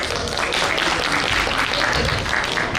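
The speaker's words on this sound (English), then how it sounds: "So Clapping for him please." Audience at a school batch reunion applauding a shy boy, steady dense clapping throughout, moderately loud and unbroken.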